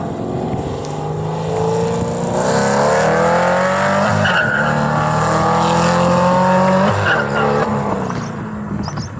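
A 6th generation Camaro fitted with long tube headers and running E85 accelerates hard, its loud exhaust rising in pitch through several gear pulls with a roaring, raspy tone, close and without talk.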